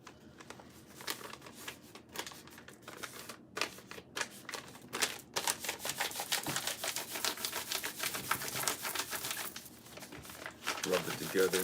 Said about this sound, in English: I'm just going to glue the two pieces of paper together.